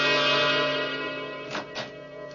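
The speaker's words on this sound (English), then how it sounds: "Who's that? Doorbell." A two-tone chime rings out over a held, bell-like tone in a radio mystery drama, the door chime striking twice in quick succession near the close.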